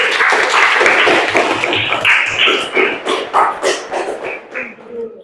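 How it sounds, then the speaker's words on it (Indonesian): Applause for a group presentation in a classroom, a close, lively burst of clapping that gradually thins and fades toward the end. "Berikan aplaus"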